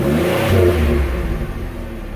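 A car engine fitted with an AP aftermarket muffler revs up loudly and close, the exhaust note rising then easing back over a couple of seconds.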